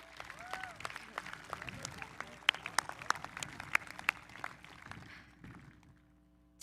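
Scattered applause from a graduation ceremony audience, with sharp individual claps standing out over a thinner crowd wash that tapers off toward the end, leaving near silence.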